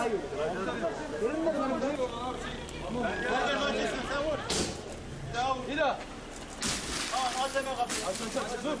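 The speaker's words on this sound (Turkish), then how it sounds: "Bir türlü uyanmayınca polis camı kırmak zorunda kaldı." Police break the glass of a parked car's window to rouse a man passed out inside, a sharp shattering crash near the midpoint with more glassy impacts later, under continuous excited chatter and crowd babble.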